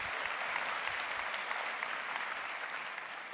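Sustained audience applause at a business summit, a dense, even wash of many hands clapping at steady volume throughout, with no voices over it.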